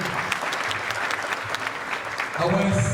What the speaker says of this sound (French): S'il vous plaît, encore des applaudissements pour notre meilleur sous-préfet.